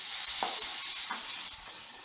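A soft, steady hiss of onions and tomatoes frying in oil with a few faint stirring scrapes, fairly quiet and continuous.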